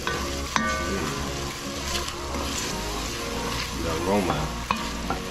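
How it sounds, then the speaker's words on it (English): Garlic and onions sizzle in a pot for Spanish-style beef stew while being stirred, a steady close frying hiss with clinks and scrapes of a utensil, and a brief spoken remark over it. "Stir that in."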